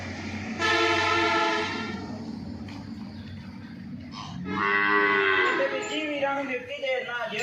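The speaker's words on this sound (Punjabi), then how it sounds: "ਡੱਬੇ ਰੰਗ ਦੀ ਵੈੜ ਬਹੁਤ ਵਧੀਆ ਵੈੜ ਆ ਬਹੁਤ ਵੱਡੀ ਵੈੜ ਆ ਜੀ" A large spotted heifer on a Punjabi farm gives two long, loud, close moos separated by a short pause, with farmyard background noise.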